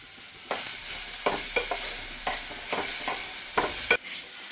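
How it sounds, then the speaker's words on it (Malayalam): Fish fries in an oil-filled pan while being stirred, a steady close sizzle broken by several sharp scraping stirs at irregular intervals, with no voices. "ശരണ്യ മീൻ വറുക്കാനും തുടങ്ങിയല്ലേ?"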